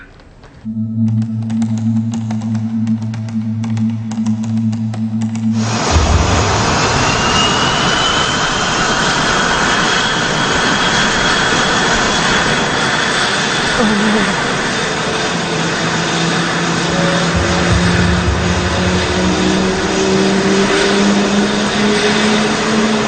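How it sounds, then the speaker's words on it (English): An aircraft's jet engine spools up, starting with a low tonal whine before a sudden loud roar that holds steady, with rising and falling turbine whine layered over the continuous rumble. "the plane started itself up"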